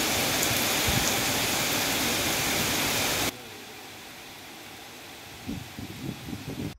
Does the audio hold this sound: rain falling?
yes